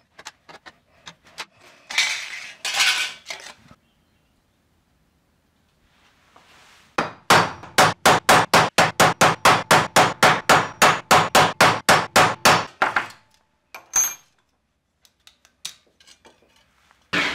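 A hammer folds over the edge of a tin can for a homemade candle lantern: a few scattered taps, a pause, then a fast even run of about thirty sharp metallic strikes close by, followed by a few last taps.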